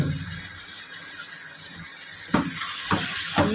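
Boiled turnips frying in a pan with mutton give a steady, close sizzle throughout, with a few sharper scrapes of stirring near the end.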